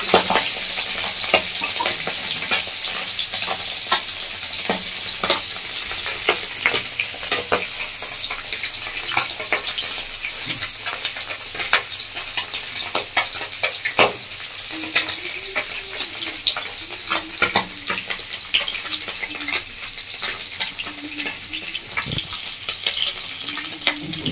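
Tangra fish frying in oil in a pan, a steady loud sizzle and crackle running throughout with occasional scraping stirs and clinks, no voices.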